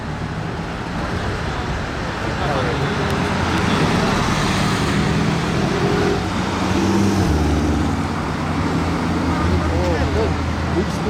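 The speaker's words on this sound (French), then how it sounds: "Le bon gros Cadillac Escalade." A large Cadillac Escalade drives past on a busy Monaco street, its engine rumble swelling and fading amid constant traffic noise, with people talking.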